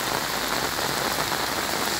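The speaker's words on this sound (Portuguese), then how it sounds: "Muita chuva caindo no Centro Histórico de Petrópolis." Heavy rain pours steadily over the historic centre of Petrópolis, Brazil, a dense, continuous hiss of drops hitting streets and roofs close by, with no voices.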